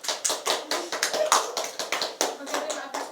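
Students in a classroom clap in scattered, uneven bursts for a classmate who has just finished presenting, steady and close for about three seconds.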